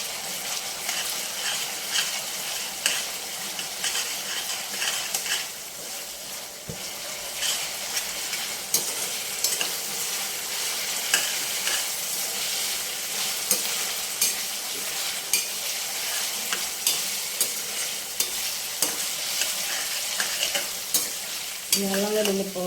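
Ginger garlic paste frying in a pan for agakarakaya pickle, a loud continuous sizzle with regular scraping strokes of a spoon stirring throughout, close and without talk.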